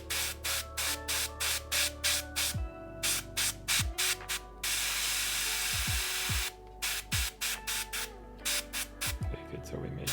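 An airbrush sprays in rapid short bursts of hiss, then one longer continuous spray, then more quick bursts, with a low motor hum underneath and a voice talking at times.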